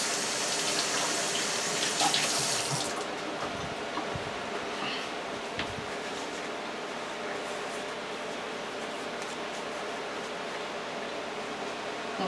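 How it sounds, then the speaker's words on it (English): A kitchen tap runs steadily as hands are washed beneath it, a loud broadband water rush for the first few seconds, then a quieter continuous flow with small splashes and clinks to the end. "I'm going to wash my hands."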